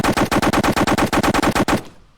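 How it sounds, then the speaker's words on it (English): An AK automatic rifle fires in the video game Mon Bazou, a loud rapid burst of about fifteen evenly spaced close shots lasting under two seconds, then cutting off into silence. "And then the AK is, I guess, automatic."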